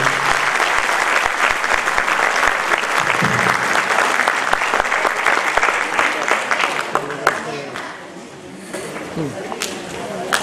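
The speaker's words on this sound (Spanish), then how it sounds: "Y el aplauso bien fuerte." Loud crowd applause rises before a festival stage, dense clapping with some cheering, then thinning out toward the end as a few scattered claps and crowd noise remain.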